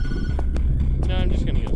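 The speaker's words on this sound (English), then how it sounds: "I feel like I should answer the phone." A telephone rings in the indie horror game Tattletail, its bright electronic tones heard faintly under a heavy low throbbing hum and soft music.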